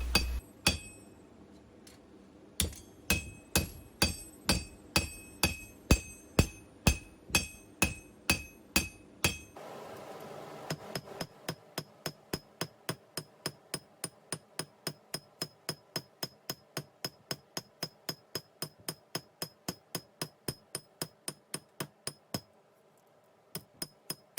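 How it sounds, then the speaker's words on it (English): A blacksmith's cross-peen hammer draws out metal stock for rose petals, ringing in a steady run of sharp metallic strikes on the anvil. There is a short pause, then a longer, faster sequence of lighter, evenly spaced blows. "draw out the metal of that'll become the rose petals by using the peen of the hammer, the cross peen, and just stretching it out"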